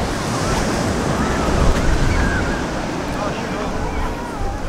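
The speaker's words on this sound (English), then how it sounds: "We're on the Santa Cruz Wharf now." Ocean waves and gusting wind at the Santa Cruz Wharf, a loud continuous wash of surf with heavy wind buffeting the microphone and faint background voices mixed in.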